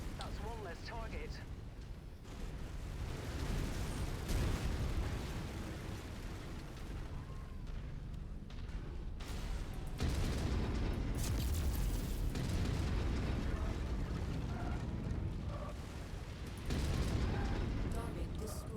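Destroyed mechs explode in a mech combat video game: a string of deep booms and crackling bursts over a rumbling mechanical bed, with clipped radio-style voices talking underneath.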